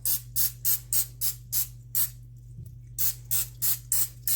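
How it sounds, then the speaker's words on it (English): Rapid bursts of hissing spray, about a dozen short puffs in a steady rhythm with a brief pause in the middle, close and clear over a low hum. "I usually just use spray oil"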